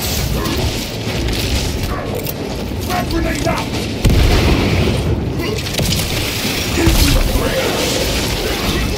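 Grenade detonation in the Warhammer game Space Marine 2, a dense, loud boom within constant heavy battle noise and rumble, with voices calling out across the din.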